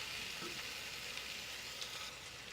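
Ginger garlic paste frying with browned onions in a pan, giving a faint, even hiss of sizzling oil throughout, quiet and unbroken, with no one speaking.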